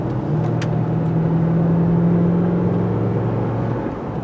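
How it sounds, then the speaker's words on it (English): A 2020 Lexus GX460 SUV drives fast along a washboard dirt road, its engine a steady loud drone with road rumble and tyre noise heard from inside the cabin, no talking. "This suspension does an excellent job of absorbing all these nasty washboard impacts."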